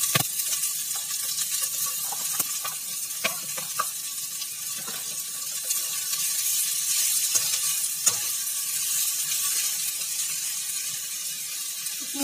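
Shredded cabbage frying in a pan with onions, a bright, steady hiss running throughout, broken by scattered clicks and taps from a utensil. No speech.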